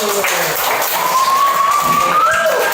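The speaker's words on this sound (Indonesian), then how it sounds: "kasih tepuk tangan dulu" A primary school class applauds in a fifth-grade coding lesson, with a dense, steady patter of many small hands clapping close by and a faint voice over it.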